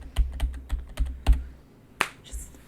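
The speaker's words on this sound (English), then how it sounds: "I'm literally hitting the D and F key" Several sharp taps on a computer keyboard's D and F keys land in an uneven rhythm, followed by one louder clack and a brief rustle, close by.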